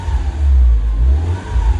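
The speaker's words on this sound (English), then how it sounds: "Rev it up a little here." Mini Cooper with a newly replaced turbo cartridge revving up, a loud close engine swelling, easing and rising again over a couple of seconds, no speech.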